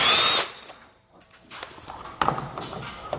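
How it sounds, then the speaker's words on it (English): Three screws come out of the clutch cover on a Yamaha Big Bear ATV: a short, loud burst from a power driver opens the clip, then quieter clicks and taps follow nearby. "I'm just going to pull these 3 screws out."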